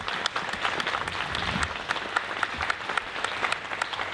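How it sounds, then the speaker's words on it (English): An audience at an event at the Brisbane Powerhouse claps in thanks, a steady mid-distance round of applause with individual sharp claps standing out and no talking. "I want the audience to give a clap to these people here."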